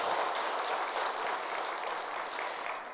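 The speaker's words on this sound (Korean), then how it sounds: "격려의 박수 한번 드리도록 하겠습니다" A church congregation applauds together during a worship service, a full, dense burst of clapping that continues steadily and tapers slightly toward the end, with no talking over it.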